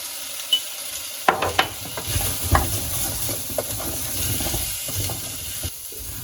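Vegetable broth poured into a cooking pot with potatoes, starting with a sudden splash and rush followed by a sustained bubbling hiss and gentle stirring clatter, close up and with no talking.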